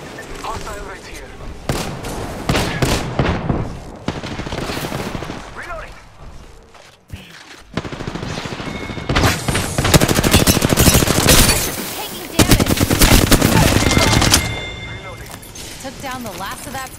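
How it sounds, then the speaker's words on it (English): Gunfire rattles through an Apex Legends match in dense, loud bursts and sustained automatic volleys, with brief pauses, while a voice speaks intermittently over the shooting. "They're shooting at me."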